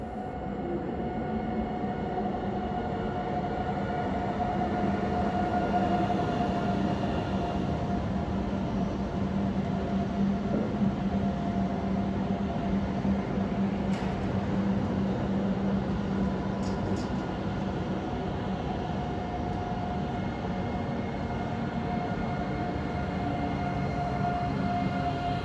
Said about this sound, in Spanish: Los trenes de la serie 730, símbolo de esta línea.